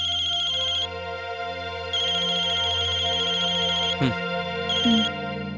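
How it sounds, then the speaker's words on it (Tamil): A phone rings with an incoming call at night, a repeating electronic ringtone that starts and stops in bursts, interrupted by brief swooping tones. "யார் கால் பண்றாங்க? எடுத்து பாரு."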